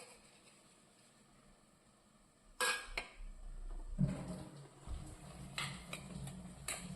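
A spoon stirs roasted coconut into erissery in a pot, making intermittent scraping and clinking knocks against the metal that start quietly and then grow busier, with no one talking.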